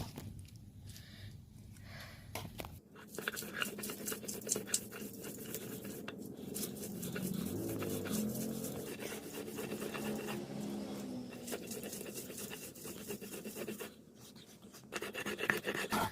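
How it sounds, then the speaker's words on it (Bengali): Prawn shells being ground on a traditional grinding stone, a close, rhythmic rasping and scraping with repeated strokes, moderately quiet, pausing briefly near the middle and end. "এই যে এই চার ছোবড়াগুলি এটি এখন বেটে নেব"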